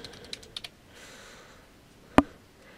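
Sparse taps on a computer keyboard: a few quiet key presses early on, then one sharp louder click, in a quiet room with no talking.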